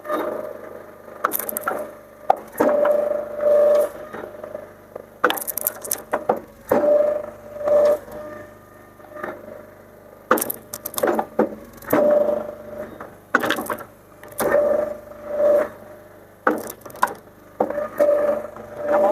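An Easton-made AXIS log splitter, its engine at about three-quarter throttle, splits firewood into small mini splits, with the steady engine hum broken by repeated sharp cracking bursts at close range.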